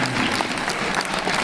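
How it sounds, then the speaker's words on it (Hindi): Loud, dense applause from a seated audience at a Hindi poetry gathering, a brief continuous wash of many hands clapping close by. "एक बार इनके लिए तालियां होनी चाहिए"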